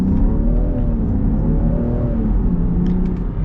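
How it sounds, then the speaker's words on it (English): A Land Rover Defender 110 P400 accelerating below full throttle, its engine a steady low rumble with rising harmonic tones heard from inside the cabin. The sound is continuous and fairly loud, with no talk. "And we're gonna get our acceleration here with the Defender."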